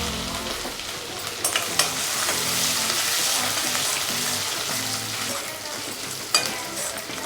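Grated ginger is added to browned dal frying in hot oil in a pan, giving a steady, close sizzle with occasional scrapes and taps from stirring.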